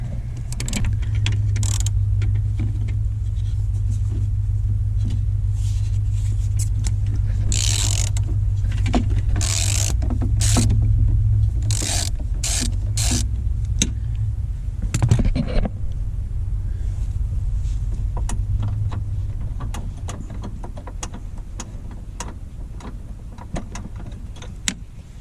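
Mechanical ratcheting and metallic clicks with a low rumble accompany removal of a door check bolt on a 2001 Pontiac Grand Am, steady for about twenty seconds before easing off.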